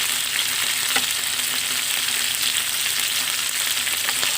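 Garlic sautéing in leftover frying oil for chicken adobo, a loud steady hiss of sizzling oil held evenly throughout with a few faint stirring taps, close and with no voices.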